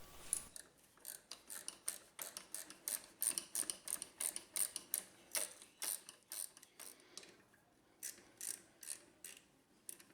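A wrench ratchets as the rear brake caliper bolts of a Honda NC750X motorcycle are tightened, giving quiet, close clicking bursts repeated in quick rhythmic strokes with short pauses between them.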